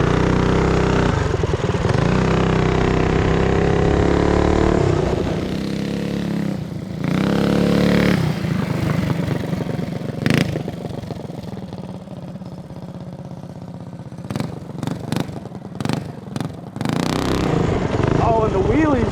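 A Tillotson 212 engine minibike revs with its throttle stuck open, a loud, steady engine drone that dips and surges, with voices talking over it and sharp bursts near the end.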